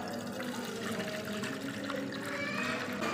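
Water running from a tap into a container, a steady splashing trickle, continuous and close throughout with no talking.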